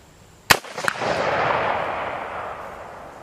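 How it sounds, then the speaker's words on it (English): A single sharp rifle shot from an AR-15 chambered in 7.62x39, fired at a steel target, cracks loudly and close, followed a beat later by a fainter secondary report and a long fading echo rolling across open ground. "I'm going to fire to the center of the steel"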